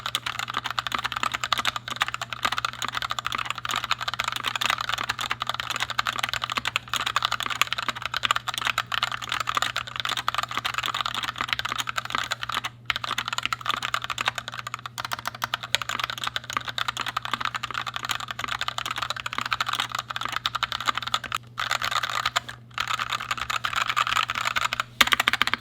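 Fast continuous typing on a budget custom 60% mechanical keyboard, dense close clacking keystrokes with a low steady hum beneath and no speech.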